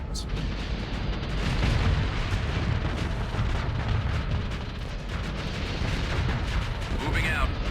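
Ship guns fire in a Starsector space battle, a dense continuous barrage of booming shots and bursts rolling together with no pauses, loud and layered throughout.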